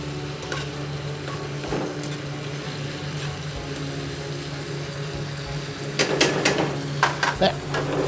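Shiitake mushrooms and bacon sizzle in bacon fat as a steady, moderately loud crackle, then stirring near the end adds a few sharp scrapes and clatters.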